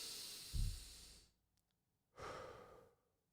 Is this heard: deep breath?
yes